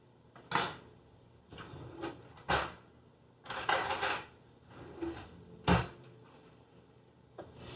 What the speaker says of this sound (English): Let me get me another spoon.